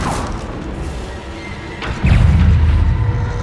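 A Bombarda blasting spell goes off in Hogwarts Legacy, a heavy booming impact that thumps in sharply midway and leaves a deep rumbling roar over a busy background of game noise.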